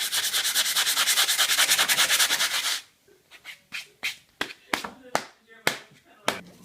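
A guitar neck is sanded in quick, steady back-and-forth rasping strokes, close and loud, then the rubbing stops and scattered taps, knocks and handling sounds follow.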